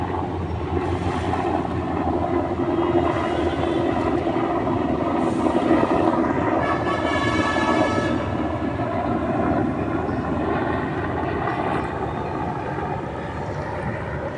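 A helicopter passing overhead above Manila Bay, a steady, loud, continuous rotor and engine drone with wind buffeting the microphone throughout, no voices.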